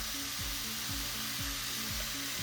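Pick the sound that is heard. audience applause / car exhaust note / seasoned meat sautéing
seasoned meat sautéing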